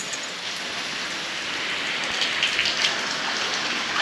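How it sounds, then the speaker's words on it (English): Steady rain falls in a constant hiss, drops pattering densely on a nearby surface with no voices. "Well, it's raining, so I'm doing laundry."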